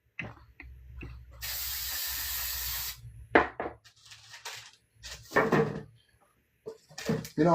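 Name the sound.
pan spray being sprayed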